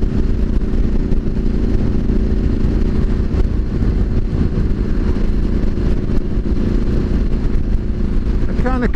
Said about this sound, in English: the Vance and Hines system does sound good. It's got that deep burble.